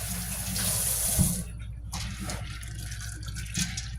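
Water runs steadily from a tap to rinse field corn. A strong gushing flow drops to a softer trickle with light splashes and a few knocks.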